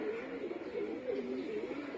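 Pigeons coo near an open cage of female pigeons, soft low repeated rolling calls in a steady rhythm, fairly close but quiet, with no talking.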